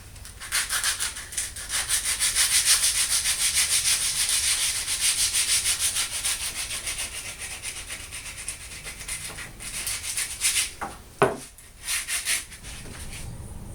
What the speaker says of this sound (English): I'm going to actually need that 60 grain sandpaper for that portion